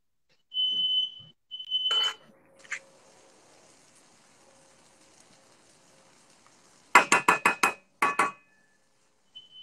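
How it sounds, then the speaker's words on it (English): In a home kitchen where a veal chop is being cooked in an iron skillet, a smoke alarm chirps a few times early on, then later blares in a rapid series of loud, sharp beeps. "My fire alarm's going off."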